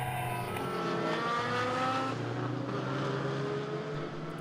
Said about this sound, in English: Into the pit lane comes our race leader then.